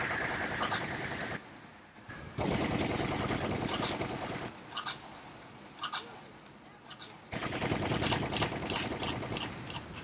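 Gunshots pop repeatedly in Resident Evil: The Umbrella Chronicles, fired at a creature's mouth. Clusters of sharp reports sit in a steady rumble of game noise, with brief quieter gaps between the bursts.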